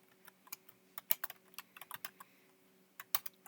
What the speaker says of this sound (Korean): 안산, 안양 중학교라고 타이핑을 치고 Alt 엔터 키를 치면